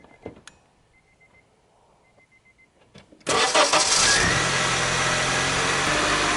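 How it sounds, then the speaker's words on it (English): A car engine, powered by a portable jump starter, cranks and catches at about three seconds, then settles into a loud, steady idle after a few quiet clicks. "You're now ready to start your car."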